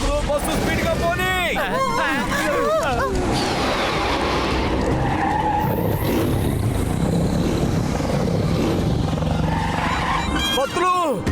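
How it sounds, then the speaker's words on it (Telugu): A cartoon bus speeds along with skidding, squealing tyres and a roaring engine, loud and continuous, while excited cartoon voices shout over the noise. "బస్సు స్పీడ్గా పోనీ."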